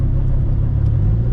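Heavy low engine rumble from an AWD K-swapped turbo Honda Civic with a twin-disc clutch, loud and close, a steady droning roar with a slight pitch rise as it pulls, no voices.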